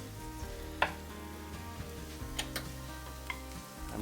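A steady, gentle sizzle of mushrooms frying in a pan, with a few soft clicks and taps.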